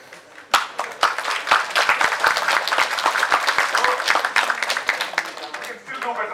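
A lecture-hall audience breaks into sustained applause, dense overlapping claps that stay loud and steady for several seconds before tapering slightly at the end.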